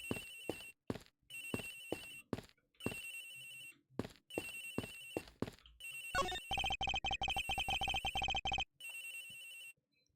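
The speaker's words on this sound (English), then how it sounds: "It sounds like the phone is up in the flight attendant's room." A telephone rings in Ace Attorney Investigations, bursts of electronic trilling ring tones with short gaps, then a faster rapid-fire ringing stretch, loud and close with no voices.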